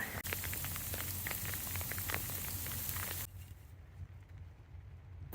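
Sleet of small frozen raindrops patters during a late-winter storm, a soft crackling hiss with scattered ticks that drops sharply quieter about two-thirds through.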